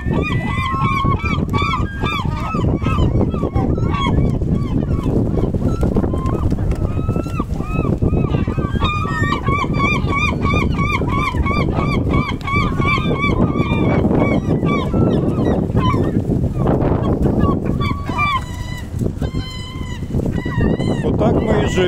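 Seagulls call loudly and continuously along the shore at Anadyr, Chukotka, their honking cries overlapping for the whole stretch over steady wind and water noise, with a voice talking at times.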